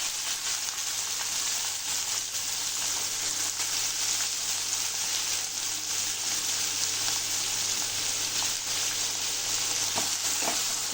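Onions, garlic and urad dal fry in a pan with a steady, close, even sizzle that holds for the whole stretch, with no talking.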